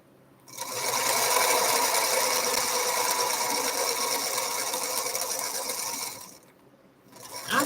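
A sewing machine runs in a fast, steady mechanical whir with rapid stitching clatter, stops briefly, then starts up again.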